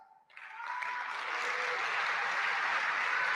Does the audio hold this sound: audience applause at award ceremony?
yes